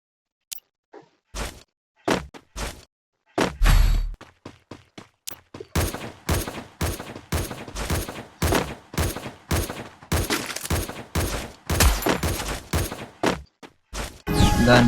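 SVD sniper rifle fire in a video game, a long series of sharp gunshot bursts that grows denser and louder, with rapid close cracks packed together after a few sparse opening shots.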